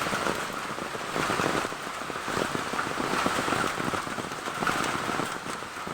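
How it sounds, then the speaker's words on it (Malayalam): Steady, heavy rain pours down during monsoon flooding along the Meenachil River, a dense continuous patter drumming on surfaces with no voices. "നല്ല മഴയാണ് തോരാതെ നിൽക്കുന്ന മഴയാണ്"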